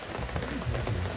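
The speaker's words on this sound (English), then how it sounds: "the update is it's pouring down rain" Heavy rain pours steadily at a campsite in the Adirondacks, a dense close hiss of drops hitting surfaces with no voices.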